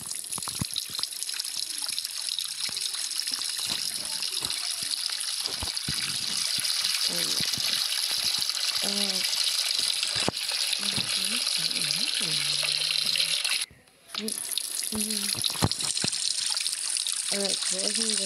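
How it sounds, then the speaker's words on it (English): Steady rush of tap water running into a sink while a plate is washed, close and continuous with a brief cut-off near the end before the flow resumes, with a voice talking quietly underneath. "Gonna wash up the plate."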